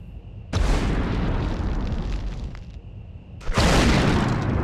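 Two loud grenade explosions in the 1999 Medal of Honor game, each a sudden booming blast with a long rumbling tail, the second arriving about three seconds after the first, over a faint steady tone.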